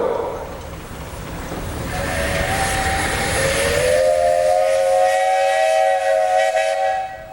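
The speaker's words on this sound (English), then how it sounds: "you got a whistle" A loud steam engine whistle blows at a steam show in Wauseon, Ohio, in a long, sustained tone over heavy hissing, rising slightly in pitch midway before cutting off near the end.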